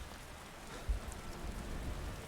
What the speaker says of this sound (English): it's getting ready to start raining